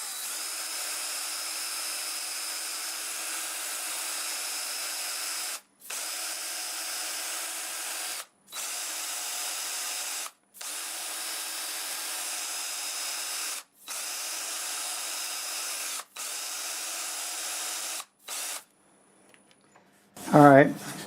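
Wood lathe running in reverse at around 400 RPM while a turned gift piece is sanded with fine grits, a steady high whine in several long stretches broken by short stops, ending with a brief clatter.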